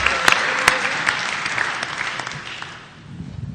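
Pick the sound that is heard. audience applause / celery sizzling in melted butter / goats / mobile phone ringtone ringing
audience applause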